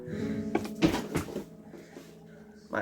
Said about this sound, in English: My island's knocking back and forth.